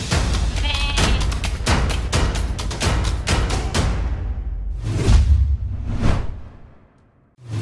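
Sheep at feeding time on the Harmony Wool and Mill farm in Belfast, PEI, bleating in a dense, overlapping chorus of loud calls that thins to a few separate bleats and then fades near the end.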